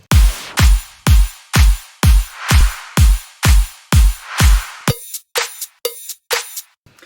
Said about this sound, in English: Lastly are the drums, and they sound like this.